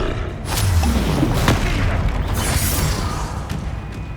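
A Confringo fire spell explodes in Hogwarts Legacy, a deep booming blast with a loud rumbling body that rolls on for several seconds amid further crackling impacts.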